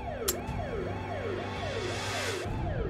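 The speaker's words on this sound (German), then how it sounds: "Und wir haben schon wieder eine Sirene." A wailing siren in the zombie video game Zompiercer rises and falls in repeated, evenly paced sweeps over a low steady hum, with a brief sharp noise near the start and no talking.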